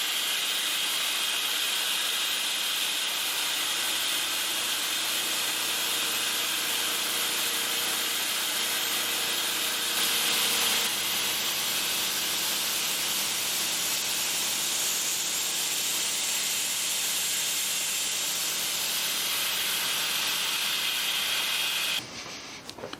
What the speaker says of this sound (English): because I'll be using the mist cooler, it's going to get really noisy